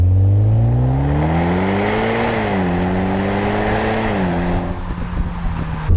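Mitsubishi Evo X FQ-300 GSR with an automatic gearbox revving up through first, second and third gears, engine note rising and dropping at each shift, loud and close, with no talk over it.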